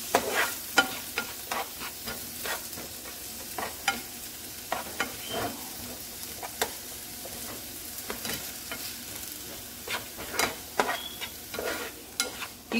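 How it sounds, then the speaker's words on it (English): Vegetables being stirred as they fry in a pan for plantain and eggs, with repeated sharp scraping strokes over a soft continuous sizzle, close and fairly loud. "You keep on stirring until everything is properly fried to your taste."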